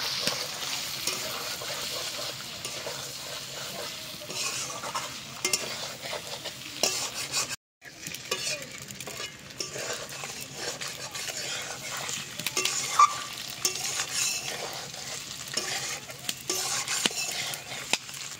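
Spices with salt and Kashmiri chilli powder fry in a pan, a steady close sizzle with repeated scraping stirs of a spatula, no voices.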